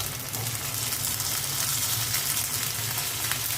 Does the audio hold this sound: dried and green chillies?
yes